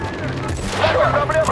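A short, close volley of gunfire in Battlefield: Bad Company 2, with sharp cracks crowding together over a low rumble and game noise, while someone speaks through it.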